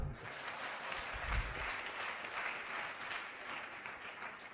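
Crowd applause in a lecture hall at an inaugural lecture, a sustained, even patter of many hands clapping, with a low rumble near the start, heard at a moderate distance.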